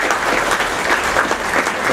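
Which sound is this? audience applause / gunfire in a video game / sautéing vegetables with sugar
audience applause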